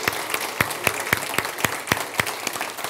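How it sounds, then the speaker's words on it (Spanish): A church congregation applauds, with sharp, evenly spaced claps ringing out in a steady rhythm over a dense wash of hand-clapping across the room, lasting throughout with no voices on top. "Vamos a darle un buen aplauso a nuestras hermanas y esposas y a todas las mujeres que ayudaron ayer"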